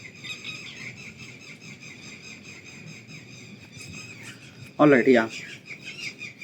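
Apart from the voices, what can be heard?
birds calling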